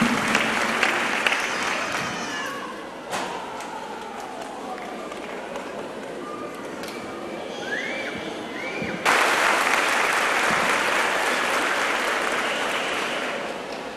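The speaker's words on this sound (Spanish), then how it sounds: "Un aplauso para este huésped ilustre, por favor." Audience applause for an illustrious guest at a 2016 Familias en Acción opening event, a broad steady clatter of clapping that swells louder partway through and continues to the end, with faint voices mixed in.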